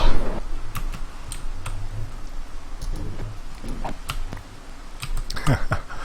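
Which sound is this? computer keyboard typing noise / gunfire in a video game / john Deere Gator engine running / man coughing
computer keyboard typing noise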